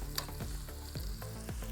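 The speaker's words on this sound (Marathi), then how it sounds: "सगळ्यात बेसिक फोडणी तीच आहे" A basic spice tempering of ajwain and asafoetida sizzles and crackles steadily in hot oil for multigrain thalipeeth, with soft stirring scrapes and small pops close up.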